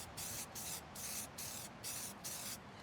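An aerosol spray paint can sprays paint onto a Mazdaspeed Miata spoiler in six short, close bursts with brief gaps between them, the hiss thin and sputtering as the can runs low.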